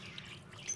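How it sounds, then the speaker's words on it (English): A pump-powered waterfall in a reptile terrarium tank runs down the back behind vines and through rocks, giving a soft, steady trickle and drip of water close by, low and continuous. "it has a waterfall that's actually built into the tank"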